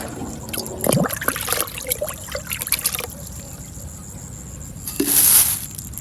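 Dissolved ammonium sulfate solution is poured into a container while mixing an herbicide spray, giving a short liquid splash and trickle, close and moderately loud, followed by a brief quiet pause and another pour.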